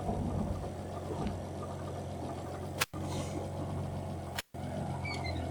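A Ford Anglia engine runs with a low, steady idle rumble, close and moderately quiet, interrupted by two brief sharp clicks.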